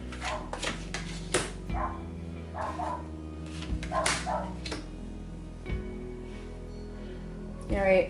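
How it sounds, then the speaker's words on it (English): Dogs bark intermittently indoors, short sharp yaps scattered through the clip alongside a person talking. "sorry about the dogs barking"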